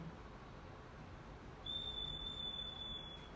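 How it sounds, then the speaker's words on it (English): A thin, steady high-pitched whistle of wind starts partway through and holds, rising slightly in strength over a constant low rumbling background. "you hear the wind blow, and in my case it's whistling"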